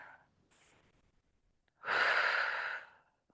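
A single long, deep breath, likely an exhale, taken while holding a gentle deep stretch, loud and close with a breathy rush after a quiet pause, no talking.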